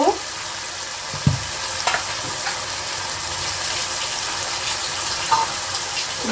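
Chicken pieces browning in oil in a pan for a begomoti chicken dish, a steady bright sizzle throughout with a few louder clanks and stirs of a spoon against the pan, no talk.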